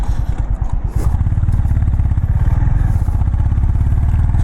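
A motorcycle accelerating along a road, the engine's pulsing throttle close and loud with a steady rapid throb, plus wind buffeting and a clattering bump near the start.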